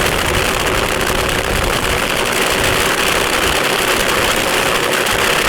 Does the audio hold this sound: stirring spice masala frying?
no